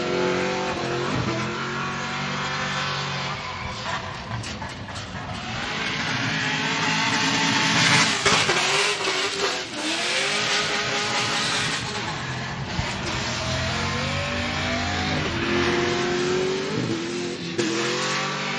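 A drift car in a Formula Drift Prospec race revs hard and continuously, engine screaming through rising and falling pitch sweeps with bursts of tire squeal, loud and close throughout with crowd and track noise underneath.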